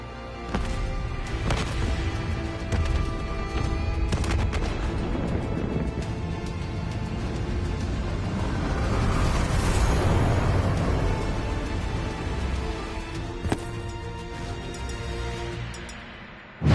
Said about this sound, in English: Hendrix, we have multiple explosions across the facility